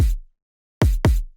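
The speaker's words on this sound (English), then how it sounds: "Just a normal kick and noise." Three sample-based phonk kick drum hits layered with noise and no effects, a lone thump followed after a pause by a quick double hit, each with a hissy attack and a short boomy decay.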